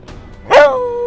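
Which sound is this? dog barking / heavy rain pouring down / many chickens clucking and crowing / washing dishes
dog barking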